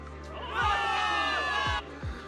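A crowd of soldiers in the Zenless Zone Zero video game cheers loudly in a dense, sustained swell of many voices that breaks off abruptly near the end, followed by a few low thuds.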